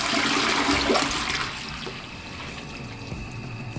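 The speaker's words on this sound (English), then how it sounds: "Was that a toilet?" A toilet flushing nearby, opening with a loud rushing surge of water that tapers into a quieter trickle and refill.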